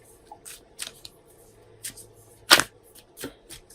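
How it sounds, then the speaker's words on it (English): Tarot cards are shuffled by hand in a handful of quick, soft riffles and flicks with short gaps between, close and fairly quiet, with no talking. "Let me shuffle these cards"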